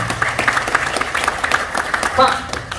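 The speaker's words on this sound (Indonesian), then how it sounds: "Tepuk tangan buat Bapak Ibu ya." Audience clapping at a seminar, steady applause throughout with voices mixed in and a brief tonal shout near the end.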